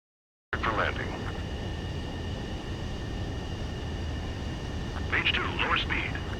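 Jet aircraft landing on a runway in the combat flight game Ace Combat 7, a steady loud engine roar sustained throughout with radio-style voice chatter over it.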